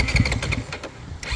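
A fuel-injected 2019 Honda CRF250R motorcycle engine cranks and catches, with loud low chugging bursts settling into a rough idle over a second or so.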